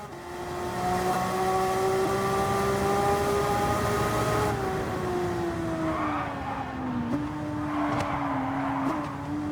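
Racing cars in a PS5 racing video game, with a steady engine whine that rises, then dips and shifts as the car changes gear, moderately loud with faint tyre and track noise underneath.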